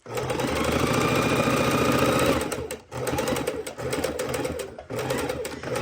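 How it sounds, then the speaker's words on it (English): A sewing machine runs steadily while stitching a fabric seam on a bowl cozy, a loud, close, rapid mechanical whirr that pauses briefly twice and then resumes, with no voices over it. "At my corner, I want to sew past and sew back, a stitch or two past, a stitch or two back"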